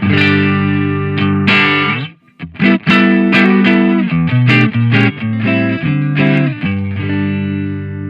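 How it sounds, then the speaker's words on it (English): An electric guitar, an S-type on the neck pickup with a clean tone, played with a warm, round tone, a run of held notes and quick picked phrases, close and fairly loud with no voice. "So my clean tone, before I switch the pedal on, sounds like this."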